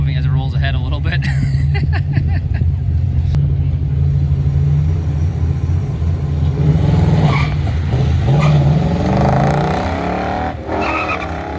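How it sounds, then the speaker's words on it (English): An AMC drag car, an old Rambler, rolls forward on a drag strip at the AMC Nationals, its sticky tires peeling off the track beneath a loud, continuous engine rumble, with a commentator talking over it. "you can hear the stick on the tires moving as it rolls ahead a little bit"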